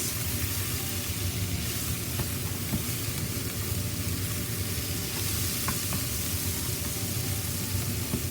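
Onions fry in olive oil in a pan, a steady close hiss and sizzle with a few faint clicks, no voices.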